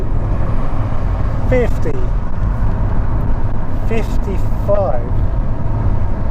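An Audi 80 with a 90 horsepower engine pulls hard through the gears on open road, its steady engine drone filling the cabin while someone talks over it.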